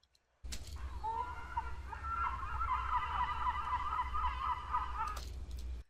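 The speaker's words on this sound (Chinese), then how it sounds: "然后还有海鸥的声音，" Seagulls calling again and again, loud, close, honking cries over a low background rumble. The calls overlap in a busy stretch.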